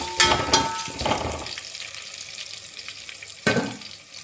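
Onions fry in a pan for a mutton dish, with a soft sizzle under a few louder scraping stirs at the start and again near the end.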